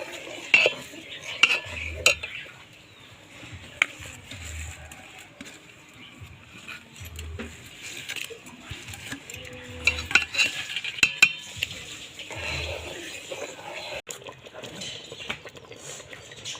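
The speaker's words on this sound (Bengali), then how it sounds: "এখন সঙ্গে সঙ্গে নাড়তে হবে, না হলে চালটা লেগে যাবে নিচে" A spoon stirring ghee-coated Gobindobhog rice in a pot for payesh, repeated scraping and clinking of metal against the pan with a faint sizzle underneath, close and fairly quiet, no talk.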